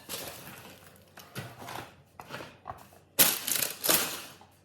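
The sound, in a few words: baking paper peeled off a sourdough loaf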